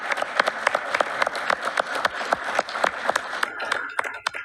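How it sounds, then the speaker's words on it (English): A crowd applauds steadily at a school board meeting, dense clapping close and continuous throughout, thinning slightly toward the end. "Can we give a round of applause?"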